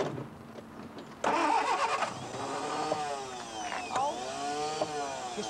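A car engine cranks and catches with a sudden burst, then revs gently up and down several times, rising and falling in pitch at close range.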